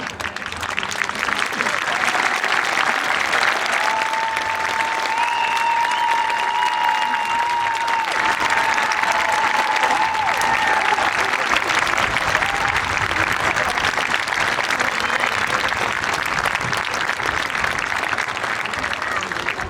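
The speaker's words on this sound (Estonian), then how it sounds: "ühe ilusa aplausi" Sustained, dense applause from the audience for dancers and singers at an outdoor folk dance event in Estonia, loud and even for the full length, with a voice briefly rising over it early on.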